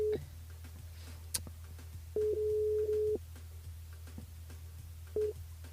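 Telephone ring-back or busy tones pulse during a call back to a caller on a live evening radio show: a short beep, then a long steady tone of about a second, then another short beep over a low hum.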